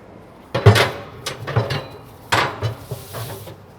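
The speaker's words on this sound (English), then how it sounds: "place your standard grates back in" Metal grill grates set down into a Yoder Smokers pellet grill make several close clanks and scraping knocks in uneven bursts, with short pauses between placements.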